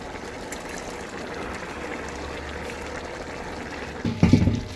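Lemon juice poured into chicken biryani cooking in a pot of rice and water, a low steady trickle under cooking noise followed by a brief louder splash near the end.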